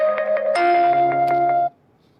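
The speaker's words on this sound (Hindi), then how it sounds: "साथी का फोन आ रहा है बीच में शायद।" A phone ringtone plays a bright, steady electronic melody for about a second and a half, loud and close, then cuts off abruptly into quiet room tone.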